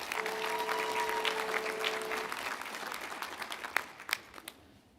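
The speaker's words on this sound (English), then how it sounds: "Let's give the School of Applied Technologies graduates another round of applause." Sustained applause from a large crowd in a big room at a college commencement ceremony, thinning out toward the end to a few scattered final claps.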